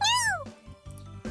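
Three house cats greet someone returning home with a loud, drawn-out meow, followed by softer shuffling and a second meow starting at the end.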